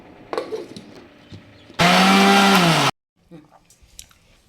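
A kitchen mixer grinder grinds coconut chutney for a ridge gourd chutney recipe in one loud, whirring burst of about a second, its motor whining with a slightly falling pitch, between quieter handling clatter.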